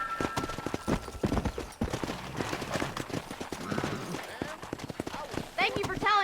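Horse hooves clip-clop in steady galloping rhythm while riding in the Red Dead Redemption video game, herding cattle, close and prominent under someone shouting to the horse, with a brief whinny near the end.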